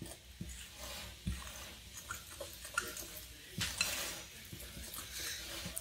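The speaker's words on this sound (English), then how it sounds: "I'm gonna mix it up pretty well with the fork." Proofed yeast being stirred into a dry flour mixture with a fork for skillet bread, giving scraping, clinking strokes against the bowl in an irregular rhythm, close and moderately loud with no talk.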